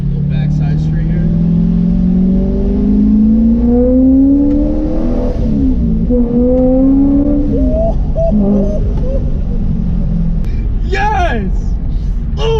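A 700 horsepower Corvette C5 Z06 accelerates hard from the driver's seat, its loud engine rising through the gears in a series of climbing revs with shift dips, and the driver talks and shouts over the roar.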